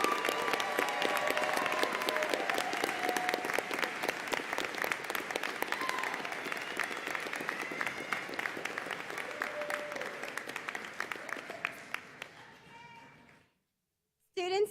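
An audience at a commencement ceremony applauds the graduates in sustained clapping that slowly thins out and fades to near silence before a brief sound at the very end.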